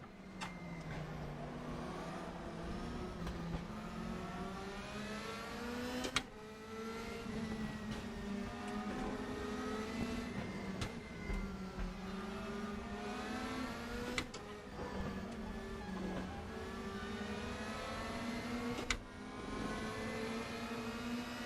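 Race car engines roar steadily in the RaceRoom racing game, their pitch rising and falling through repeated gear changes and revs for the whole stretch, loud and continuous with no talk.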